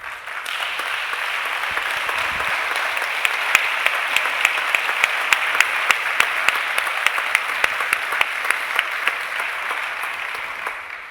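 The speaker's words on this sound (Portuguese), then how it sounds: "E eu gostava de pedir uma salva de palmas." An audience at a Portuguese legal study-day debate breaks into sustained applause. The clapping is dense and even, with sharp individual claps standing out, and it holds steady for about eleven seconds before tapering at the end.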